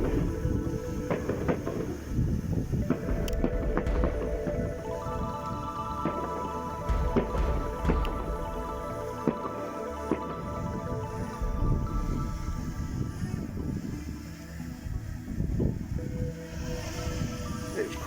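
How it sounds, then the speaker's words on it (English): Steady wind blows outdoors on a gimbal-mounted camera microphone at night, producing low, rumbling buffeting with irregular gusts throughout and no voices. "It's quite windy."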